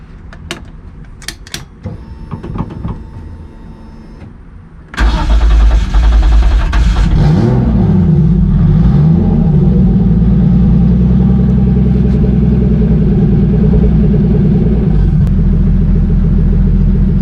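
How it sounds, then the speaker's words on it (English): A turbocharged BMW E30 engine cranks and fires, then settles into a loud, steady rumbling idle with slight fluctuations, after some faint clicks and handling noise beforehand. "So we will start the car back up and see what it does."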